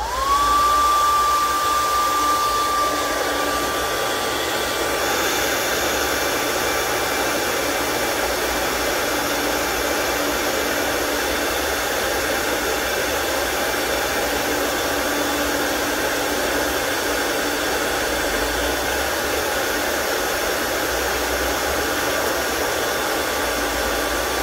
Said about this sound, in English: So this hair dryer helps to blow the crumbs away as I'm trimming.